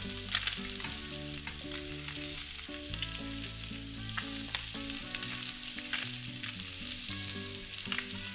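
Cajun-seasoned codfish sautéing in a pan, a loud, constant close-up sizzle with stirring and faint tonal music underneath, with no voices.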